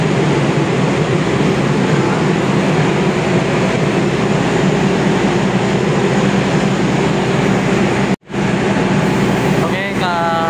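A KRL commuter train bound for Palur sits at the platform, a steady loud rumble and hum of the train filling the scene, cut by a brief dropout and followed by a rising whine near the end.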